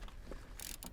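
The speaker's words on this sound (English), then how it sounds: "We're gonna go ahead and take our size 8mm socket" Quiet clicking of a ratchet fitted with an 8mm socket working on the side mirror bolts of a Honda Accord, a few soft mechanical ticks and a couple of brief bright bursts, close and faint.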